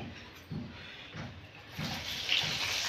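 Boondi batter dropped into hot oil in a home kitchen for wedding-style boondi, a steady broadband sizzle and splutter that swells in bursts and grows louder toward the end, with no voices.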